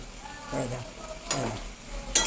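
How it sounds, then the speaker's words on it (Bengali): Boiled potatoes with poppy seed are stirred in a dry pan, giving a few soft scraping strokes and faint sizzling close up, with a sharper clink near the end. "নাড়িয়ে নিতে হবে ভালো করে নাড়িয়ে নিতে হবে আলুগুলো"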